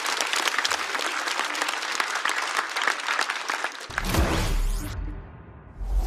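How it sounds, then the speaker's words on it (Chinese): Audience at a stand-up comedy show applauding, a dense burst of clapping from a large crowd that runs for about four seconds before a loud low rumble and fade as it dies down. "所以掌声送给王颖，谢谢王颖。"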